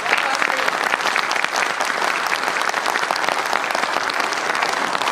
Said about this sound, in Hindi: एक बार जोरदार तालियां बजाइए ताकि ऐसा लगे हॉल भरा हुआ